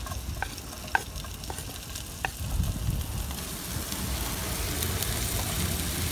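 A juicy keyhole limpet sizzles and fries in a hot pan with a steady, close crackle and a few sharper pops early on. No one talks over it.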